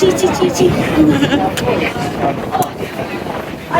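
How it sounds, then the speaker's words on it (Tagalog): Strong wind gusts across the microphone on a cruise trip while walking toward a ferry, a loud, constant rushing roar with faint voices mixed in underneath. "Mahangin, anak, mahangin."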